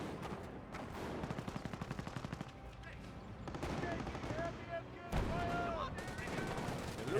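Gunfire in a Company of Heroes battle, with a rapid machine-gun rattle followed by scattered shots and explosions in dense game audio while a commentator talks over it.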